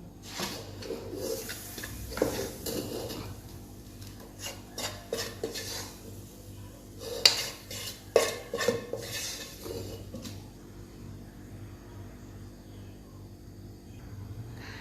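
A spoon clinks and scrapes against a bowl while stirring yogurt for kadhi pakora, giving irregular close taps and rubs with sharper knocks midway through and a quieter stretch toward the end.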